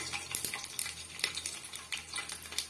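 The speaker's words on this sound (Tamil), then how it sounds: "ஆயில் நல்லா சூடாயிட்டு வந்துடுச்சு இப்போ நம்ம எடுத்து வச்சிருக்க ஸ்பைசஸ் எல்லாம் சேர்த்துக்கலாம்" Whole spices, cinnamon bark, kasuri methi, cardamom, star anise and kalpasi, dropped into hot oil for vegetable rice, giving soft crackling sizzles with intermittent sharp clinks and scrapes of stirring.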